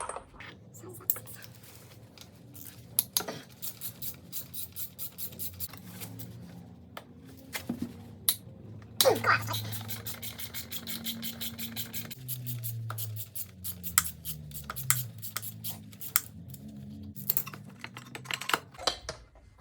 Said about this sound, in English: So next I'm going to remove the alternator here, which is held in by three, I think they're 6mm drive